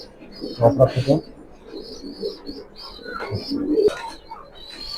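Pigeons of a fancy mixed lot coo in low, rolling calls near and far, while someone talks over them and handling sounds break in at the start.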